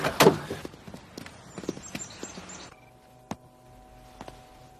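Horses' hooves clip-clop in a sharp, uneven rhythm for a few seconds, then give way to a quieter tonal background with a few isolated knocks.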